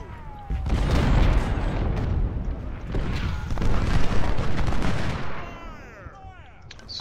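Cannon and gunfire in an Ultimate General Civil War battle at Fredericksburg, a dense rumbling barrage of booms and rattling shots, loud and continuous, easing off toward the end.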